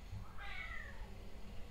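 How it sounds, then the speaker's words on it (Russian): A single brief cat meow rises and falls clearly over a low background hum, moderately close but fairly quiet. "Вы слышали кошку?"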